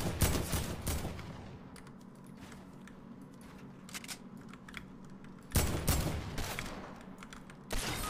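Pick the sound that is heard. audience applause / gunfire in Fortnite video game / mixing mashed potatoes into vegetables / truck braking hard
gunfire in Fortnite video game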